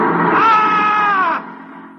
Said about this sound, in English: On the morning of June 15th, Guy Burkhart woke up screaming.